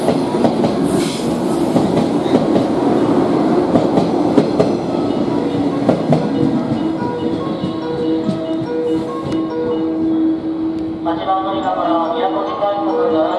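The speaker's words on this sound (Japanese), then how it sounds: "到着の列車はこの駅までです。" A JR Kosei Line local 113 series train rolls into Kyoto Station with rumbling wheels and clacking over the rails, brakes squealing near the end as it slows.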